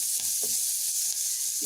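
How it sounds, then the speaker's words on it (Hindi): Chopped onion and crushed garlic fry in a clay pot for a spinach vegan curry, giving a steady close broadband sizzle with a few soft stirring knocks underneath. "थोड़ा सा भुनने दीजिए।"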